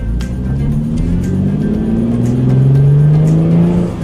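A Hyundai Genesis Coupe engine fitted with a new short ram intake and two spacers revs up loudly and steadily, its pitch climbing and holding in a sustained, close-up drone.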